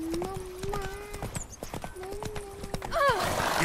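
A horse in The Witcher 3 trots with rhythmic, close clip-clop hoofbeats while neighing twice in long, drawn-out whinnies, and a voice speaks briefly.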